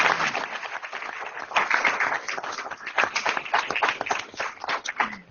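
A board meeting audience gives police officers a round of applause, with dense, uneven clapping from a nearby room that swells and fades over several seconds.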